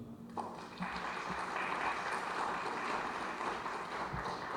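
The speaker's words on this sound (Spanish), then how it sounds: "Bienvenido, doctor Rafael Estrada, para quien pido un fuerte aplauso." An audience breaks into steady applause, dense clapping that swells after a moment and continues evenly throughout.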